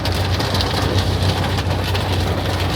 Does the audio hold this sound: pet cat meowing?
no